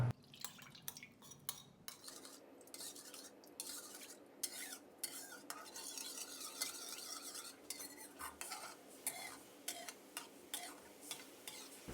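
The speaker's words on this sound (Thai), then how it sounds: "ให้เราคนส่วนผสมน้ำซอสของเราให้เข้ากันนะครับ" A spoon scrapes and taps steadily against a pot while sauce for steamed sea bass with soy sauce bubbles and sizzles faintly beneath, a quiet, close kitchen sound with no voices.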